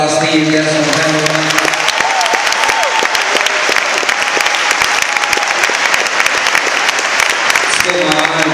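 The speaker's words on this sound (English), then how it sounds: "Can we give a round of applause for all our esteemed guests on the panel?" Sustained, fairly loud audience applause for a discussion panel's guests at a town meeting rally, steady and dense for several seconds, with a voice talking over it near the start and end.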